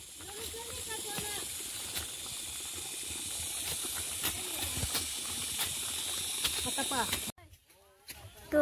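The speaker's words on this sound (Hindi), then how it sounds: "मेरा मीट भी कितना सुंदर से उबल रहा है" Meat boiling in a cooking pot in a village kitchen gives a continuous bubbling hiss, with someone talking over it before a sudden drop near the end.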